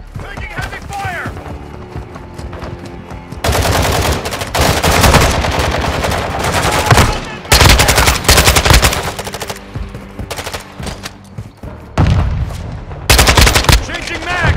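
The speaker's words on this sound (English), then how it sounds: "Taking heavy fire!" Heavy automatic gunfire from a Call of Duty Modern Warfare II mission, loud bursts of machine-gun fire in long sustained volleys separated by brief lulls, with battle chatter and background effects.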